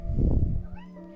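A cat meows once, a clear close call that rises and then trails off into a thin, fading tail, heard alone in a quiet room.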